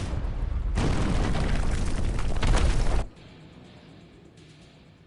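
An explosion in the video game Terminator Resistance makes a loud, dense roaring blast that holds for about two seconds, then cuts off to a low lingering rumble.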